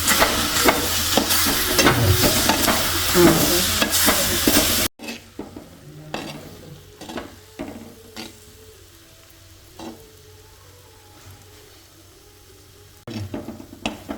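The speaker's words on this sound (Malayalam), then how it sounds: "ഇനി ഈ പൊടികളുടെ പച്ചമണം മാറുന്നത് വരെ നമുക്ക് ഇളക്കി കൊടുക്കാം." Masala of ground spices for karimeen pollichathu fries in a pan. A loud sizzle first drops to quieter stirring scrapes and taps, then the sizzle swells again briefly at the end.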